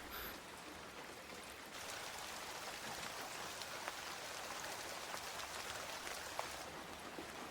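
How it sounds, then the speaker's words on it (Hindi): Steady, dense rain falls throughout, a continuous hiss of drops with occasional louder patters, growing slightly heavier after the first couple of seconds. "लगता नहीं है बारिश इतनी जल्दी रुकेगी।"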